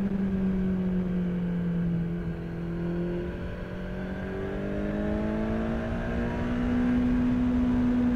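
A 2018 Kawasaki Z900 motorcycle engine revs steadily, its pitch rising and falling gently over several seconds in a continuous, close, loud drone with no talking.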